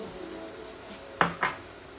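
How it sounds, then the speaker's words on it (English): Two quick clinks of a utensil against a pot as tomatoes, garbanzo beans and sweet corn go in for a one-pot pasta, set against a quiet kitchen background. "you're gonna add the rest of your ingredients, which is the tomatoes, the garbanzos,"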